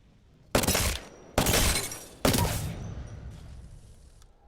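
Prowler submachine gun in Apex Legends firing three loud, sharp bursts about a second apart, each followed by a short decaying tail, with a faint high tone lingering after the last burst.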